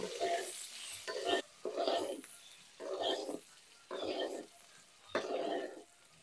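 Eggs frying and being stirred in a pan, with turmeric added, for a village-style Bengali meal; bursts of sizzling and scraping come in repeated strokes about once a second, fairly close and steady.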